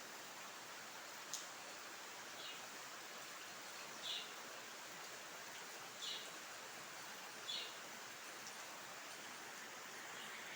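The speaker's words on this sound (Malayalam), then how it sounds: "പുറത്ത് നല്ല മഴ പെയ്യുന്നു." Rain falls steadily outside a house, a faint, even hiss heard from a porch, with a few soft brief chirps or drips standing out now and then.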